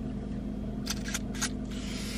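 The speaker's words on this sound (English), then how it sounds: "I want to spray my face a little bit." Several short hissing bursts of a handheld face mist spray, three or four quick puffs close to the mic over a steady low background hum, with no talking.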